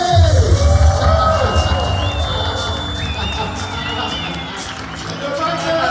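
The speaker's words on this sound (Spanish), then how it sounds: "Fuerte, fuerte aplauso a nuestro hermanito" An audience cheers and whoops as a man is introduced at a real estate company gathering, loud and crowded at first and thinning over several seconds, with people talking over it.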